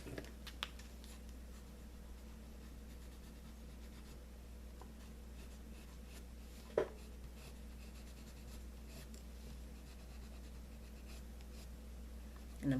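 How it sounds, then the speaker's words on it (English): Side of a color pencil shading across paper, a faint, continuous soft scratching rasp held close and quiet, with a couple of small taps along the way. "And I'm using the side of the color pencil,"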